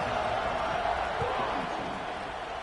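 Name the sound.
stadium crowd buzzing in video game College Football 26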